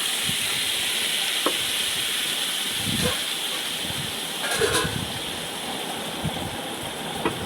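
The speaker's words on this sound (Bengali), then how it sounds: "টমেটোটা একটুখানি ভাজা হবে" Tomato fries in a pan for a pea-lentil curry, giving a steady, moderate sizzle and hiss throughout with a few faint clicks and taps.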